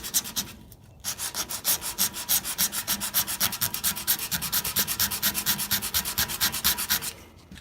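Rapid back-and-forth hand sanding with 80 grit sandpaper on the body of a 1965 Jeep CJ5, taking it down to bare metal; steady rhythmic scraping strokes, close and loud, after a brief pause near the start.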